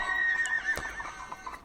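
A sorrel horse whinnies in one clear, shrill neigh that wavers and fades over about a second. Faint hoof clops and soft background noise sit beneath it, with no talk.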